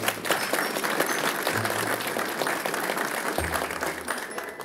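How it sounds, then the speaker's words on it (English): A live audience applauds a con man receiving an ethics award, steady dense clapping filling the whole stretch at a moderate, even level with no talk over it. "The audience clapped for Abagnale."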